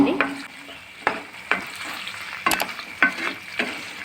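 A spoon scrapes and knocks through chicken curry with turmeric in a pan, several distinct stirring strokes at an irregular pace over a soft background sizzle, close by and without talk.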